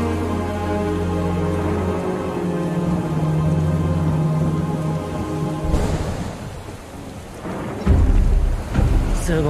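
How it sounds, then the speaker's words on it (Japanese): Heavy rain pours in Final Fantasy VII: Ever Crisis, a dense continuous hiss laced with deep rumbling thunder and a sharper crack near the end, beneath sustained musical tones. "すごい雨だな。"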